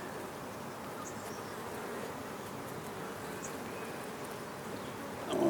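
A honey bee trapped inside a beekeeper's veil buzzes right next to the ear, a continuous close drone that holds steady throughout and swells briefly at the end.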